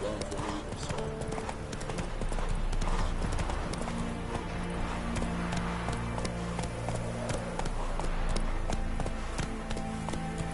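Horse hooves gallop in a steady clip-clop rhythm through The Witcher 3 video game, with layered music and ambient game sound beneath, loud and continuous throughout.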